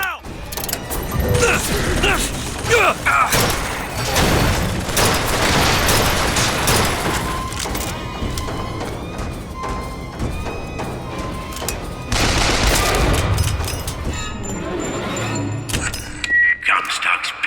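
A deploying turret in the video game BioShock Infinite clanks and ratchets mechanically, then fires in loud rapid bursts amid thumps and combat noise, with voices talking over the action.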